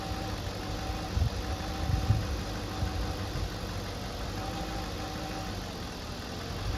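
Engine of a 2007 Cadillac SRX idling unevenly, a low steady rumble with slight irregular bumps early on, heard close and alone without talk.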